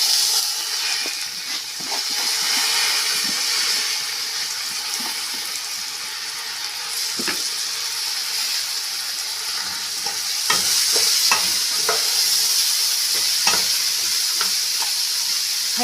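Rice tipped into a pot of toasted vermicelli for Egyptian koshari and stirred, sizzling and hissing steadily with scattered scraping knocks of the spoon against the pot, loud and close.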